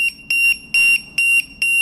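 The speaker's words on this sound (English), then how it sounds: "As you can hear, the alarm is really loud," A BX100 battery voltage tester's low-voltage alarm buzzer beeps loudly and shrilly in rapid repeated pulses, about four sharp high tones in under two seconds, with no talking.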